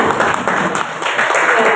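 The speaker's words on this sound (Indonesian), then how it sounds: "Tepuk tangan Bapak Ibu dan Bu Nika ya" Audience applause fills a school talk show hall at SMKN 1 Klabang Bondowoso, a dense, steady burst of many hands clapping close and loud throughout, with a voice faintly mixed in.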